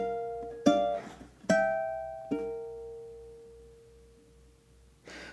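Ukulele playing the 14th bar of the Japanese folk song Sakura Sakura, a few soft plucked notes and chords ringing out one at a time and decaying, then a fresh strum at the end, with no talking.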